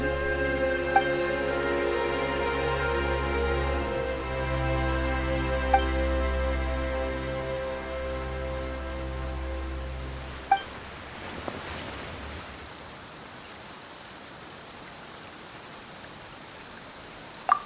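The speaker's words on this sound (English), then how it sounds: "Why is it raining all of a sudden?" Sudden rain sets in during a Genshin Impact story scene: after about ten seconds of tonal music, a steady, soft broadband hiss of falling rain takes over and continues alone, with a few faint clicks.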